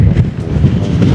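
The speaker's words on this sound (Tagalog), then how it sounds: "So malakas yung hangin dito kahapon pero mas malakas ngayon." Strong wind blows across an open hillside in South Batan, Batanes, buffeting the microphone with a loud, steady low rumble and no voices.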